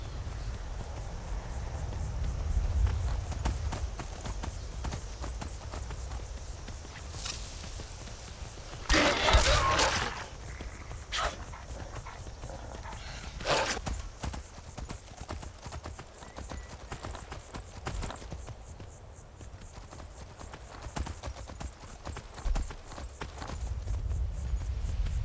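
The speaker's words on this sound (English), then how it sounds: "Come on, Skyrim horse." Hoofbeats of a horse in the Skyrim video game clip-clop steadily throughout, fairly close, with a brief neigh-like burst midway and occasional game sounds over a low ambient rumble.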